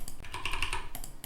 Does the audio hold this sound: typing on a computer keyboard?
yes